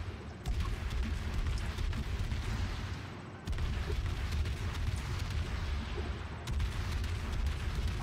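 Warship guns boom in World of Warships, three heavy salvos spaced a few seconds apart, each followed by a long rumbling roar that fills the background.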